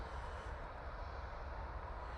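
A Ryanair jet's engines run up in an airport engine testing area, a steady broadband roar with a deep low rumble, heard from a distance and continuous throughout without talk.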